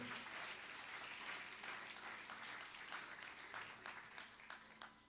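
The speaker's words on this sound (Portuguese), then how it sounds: "Aplauda ao Senhor, aplauda ao Senhor." A church congregation claps together in a dense, even wash of applause heard from a distance, keeping up for several seconds before thinning out.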